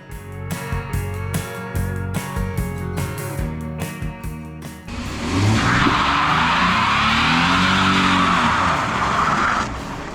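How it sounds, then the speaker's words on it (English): A six-cylinder car engine revs hard, then tires squeal in a loud, continuous screech during a burnout, with roaring exhaust as the wheels spin in place. "that 6-cylinder could do better burnout than my truck"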